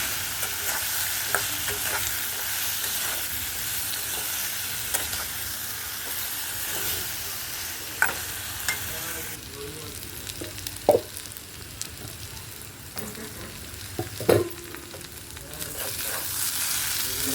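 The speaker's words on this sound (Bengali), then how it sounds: "লবণ হলুদ দিয়ে দিচ্ছি লবণ হলুদ দিয়ে ভালো করে এটাকে ভেজে নেবে" Potatoes and onions with salt and turmeric fry in a pan for a Bengali fish dish, giving a steady close sizzle with occasional sharp clinks of stirring and no voices.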